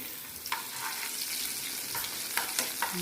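Chopped shallots with crushed ginger and garlic frying in a pan over popped mustard seeds, stirred with several quick scraping strokes over a soft, steady sizzle heard up close.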